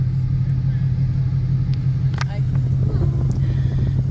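A 2012 Ford Mustang Boss 302 with a stick shift cruises along the road, its steady low engine drone and tyre rumble filling the cabin continuously, close and fairly loud, with faint talk underneath.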